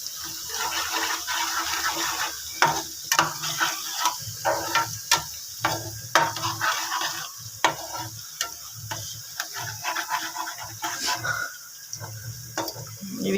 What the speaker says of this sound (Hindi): अब इन सब चीज़ों को अच्छी तरह से मिक्स कर लें।